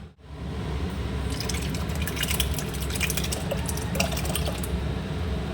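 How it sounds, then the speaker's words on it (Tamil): Curd poured into warm boiled milk for Tamil-style curd rice, a steady close liquid pour with splashing running the whole time, no talk. "இப்போ இது கூடவே நம்ம தயிரையும் ஊற்றிக்கலாம்"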